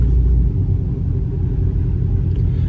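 A Dodge Charger Hellcat with catless midpipes gives a deep, throaty exhaust rumble that drones steadily, loud and close, with heavy low-end and no rise in revs.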